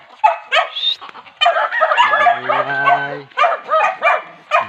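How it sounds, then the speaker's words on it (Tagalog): A dog barks and yips in short bursts close by, with a few whimpering tones mixed in among the barks. "Yan ang aso."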